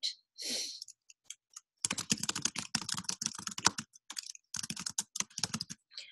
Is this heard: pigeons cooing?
no